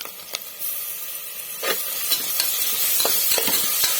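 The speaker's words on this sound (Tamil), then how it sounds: "இப்போ இஞ்சி பூண்டு பேஸ்ட் போட்டுக்கலாம்." Ginger garlic paste sizzling in a pan with browned onions for chickpea biryani, a steady loud hiss with a few scraping stirs, close and without talk.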